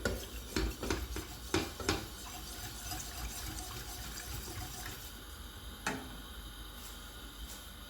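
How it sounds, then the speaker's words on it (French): A whisk clinks and scrapes against a cooking pot in quick bursts, loudest early on, then settles into quieter occasional taps and a faint watery background. "il faut juste remuer de temps en temps avec votre fouet"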